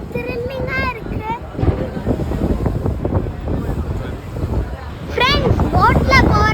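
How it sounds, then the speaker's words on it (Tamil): A passenger boat sets off on the sea at Kanniyakumari, its steady engine and water rumble running throughout under wind noise, with people talking over it. "போட் கிளம்பிருச்சு."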